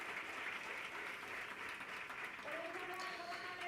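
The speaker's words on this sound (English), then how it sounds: "Let's have a big round of applause for our friend Anna" Audience applause at a tech-for-humanity summit, a faint steady wash of clapping hands heard from a distance, with a voice and a few tonal notes entering toward the end.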